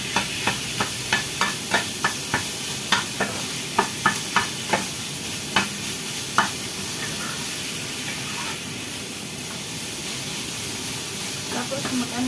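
Minced pork cooks over low heat in a pan, a soft steady sizzle with a run of rhythmic clacks as the meat is stirred, the tapping thinning out before the sizzle continues alone.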